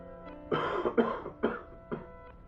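Several harsh coughs come close and loud in an uneven series, about four or five bursts spaced across a couple of seconds, with no talking between them.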